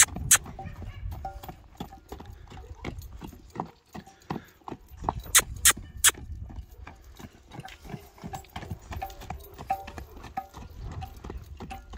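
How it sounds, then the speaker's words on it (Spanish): Horse hooves clip-clop steadily at a walking pace, a run of irregular clacks with a few sharper louder hits, no talking. "¡Ay, caballo!"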